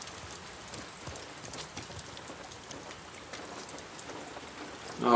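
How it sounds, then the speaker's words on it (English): Steady hard rain in The Last of Us Part 2, a dense even hiss of drops on surfaces that runs without a break, with a louder burst at the very end. "It's like a hard rain."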